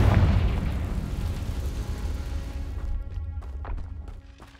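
A Confringo fire spell detonates in Hogwarts Legacy, a loud booming blast at the start followed by a rolling rumble and scattered crackles that gradually die away.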